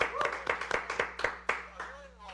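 Scattered audience clapping at a live talk-show taping, a few sharp uneven claps over about two seconds, close and fairly loud, with a low steady hum underneath.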